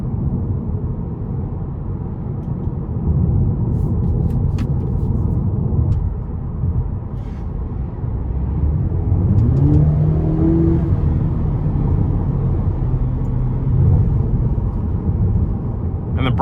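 A 2020 Cadillac CT4 2.0T with an 8-speed automatic cruising on a back road, its engine hum and road noise steady and muffled from inside the cabin, with a voice talking over it.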